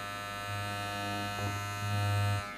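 A SUPRENT cordless hair clipper with a 2000mAh lithium-ion battery runs with a steady motor buzz, starting about half a second in. The hum rises and falls slightly and comes through close and loud, with no talking over it.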